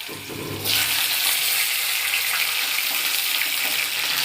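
Cut vegetables such as pumpkin, papaya, eggplant and potato dropped into hot oil with panch phoron, bursting into a loud, steady sizzle after a brief quieter start, close and without speech.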